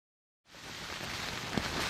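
Steady, dense torrential rainfall hiss on New Zealand's South Island West Coast fades in after a brief silence and continues evenly, heavy and close.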